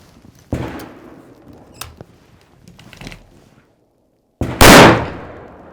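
Loud rifle shots from a budget rifle build sound at an outdoor range, two sharp reports with faint echo tails and a few quieter knocks between them.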